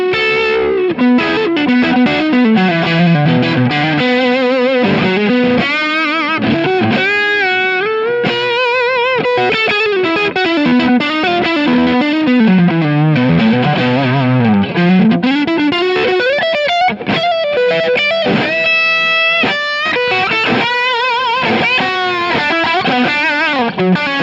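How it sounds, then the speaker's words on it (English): Electric guitar solo with a Marshall Plexi-style overdriven tone from a Kemper Profiler, washed in delay and reverb; sustained bending lead lines ring loud and continuous over a stadium-tour rig, with no talking. "Then I've got a Marshall Plexi kind of solo sound with the Kemper delay and reverb."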